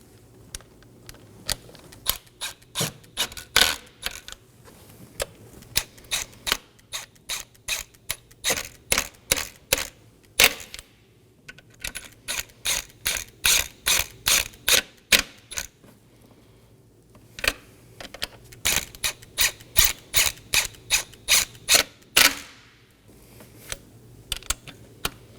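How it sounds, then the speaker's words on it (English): A ratchet snugging intake manifold fasteners on a Nissan Maxima, rapid close clicking in repeated runs of strokes with short pauses between, crisp and mechanical throughout. "I'm going to snug down my intake manifold fasteners to the sequence you see on screen."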